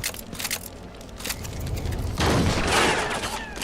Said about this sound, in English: I guess that's the shotgun's alt fire.